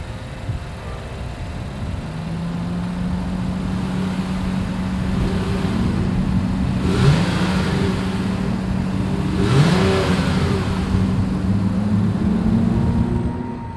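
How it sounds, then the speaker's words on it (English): A 2022 Honda Pilot with a single exhaust idles, then revs twice in quick rising bursts before settling back, a close, steady exhaust note with no talking. "As always, here is that exhaust clip."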